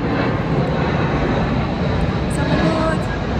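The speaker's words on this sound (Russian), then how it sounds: "Самолет." A fixed-wing airplane passes overhead with a loud, steady, broadband engine roar that fills the whole stretch, while a person talks underneath it.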